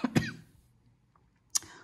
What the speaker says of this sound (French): j'ai attrapé froid, j'ai un peu de toux